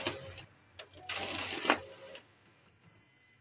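A Xerox 5855 copier runs in short mechanical bursts as pages feed through, with whirring and clicking rising and falling, followed by a faint steady tone.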